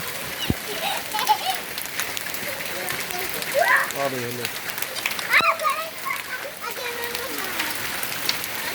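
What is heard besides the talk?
hail falling on the ground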